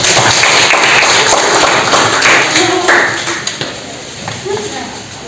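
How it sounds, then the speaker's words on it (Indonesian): Teachers in a training session applaud Nadia with loud, close clapping that fades after about three seconds, leaving scattered taps and voices in the room. "kita kasih tepuk tangan dulu untuk Nadia"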